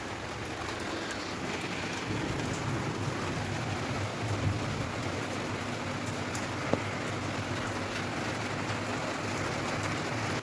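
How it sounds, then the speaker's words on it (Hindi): Steady rain pours onto a roof, a dense, even hiss of drops that holds at a constant level throughout with no voices, broken only by a single faint sharp tick near the middle. "और बारिश की आपको आवाज़ तो आ रही होगी लाइक गिरने की।"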